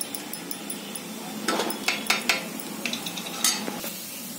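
Chili powder and asafoetida hit hot oil for dum aloo, making a soft sizzle broken by several sharp scraping and clinking strokes of a spoon against the pan, close up and without speech.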